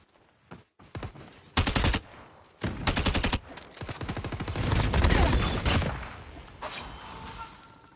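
Close-range shotgun and SMG fire in COD Mobile: short bursts and sharp blasts in separate clusters, loud and near, building into sustained overlapping gunfire with lingering rumble.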